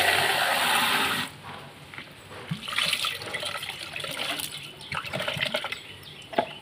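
Running water splashes and trickles while an oil can and bottle are rinsed clean, loud and steady at first, then softer with intermittent splashes and small knocks.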